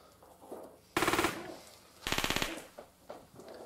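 Coaxial machine gun of a Panzer IV firing in a World War II video game set in a factory battle in Russia, 1942: two loud, sharp bursts of rapid automatic fire separated by a pause, with faint background battle noise between.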